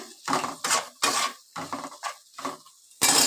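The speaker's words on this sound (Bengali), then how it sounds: "মশলাগুলো দিয়ে ভালো করে আলুটাকে আবার একটু কষিয়ে নিচ্ছি।" Potatoes stir-fried with spices in a pan, heard as a run of close scraping and clanking strokes of a utensil against the metal, about seven distinct rhythmic scrapes with brief pauses between them and no speech.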